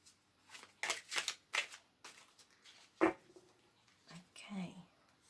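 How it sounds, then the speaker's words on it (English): Tarot cards are shuffled by hand in quick riffling bursts, followed by a single sharper snap and softer rustling handling of the deck, fairly close and quiet. "just going to give them one more shuffle"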